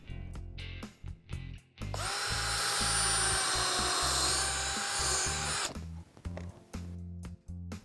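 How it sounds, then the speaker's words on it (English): A power drill whines for about four seconds boring a pocket hole into wood, a loud, steady high buzz framed by clunks and knocks of handling before and after. "I will also need to drill a pocket hole at the end of each piece"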